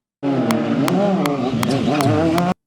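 Motorcycles in an action film scene, a dense continuous engine roar for about two seconds with a steady rhythm of sharp clicks or hits, loud and close, ending abruptly.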